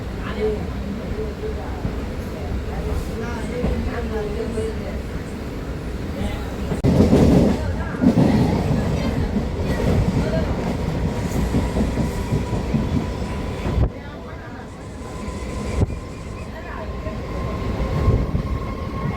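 Chennai suburban local train running on its tracks between Attipattu Pudhu Nagar and Chennai Beach, a steady close rumble of wheels and carriage noise with clickety rhythm throughout, swelling louder for a stretch midway, with faint voices in the background.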